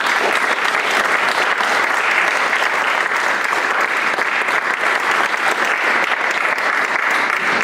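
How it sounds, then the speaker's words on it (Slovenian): Sustained, dense applause from an audience honoring scholarship recipients at a university contract-signing ceremony in Slovenia, steady and loud throughout with no pauses. "en aplavz temu cvetu naše univerze"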